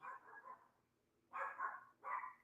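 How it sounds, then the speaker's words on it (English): A household dog named Coco, a family pet, barks indoors in distant bursts: one longer run of barking, a pause, then two more sharp barks, moderately faint and with no talk over it. "This damn dog better stop barking."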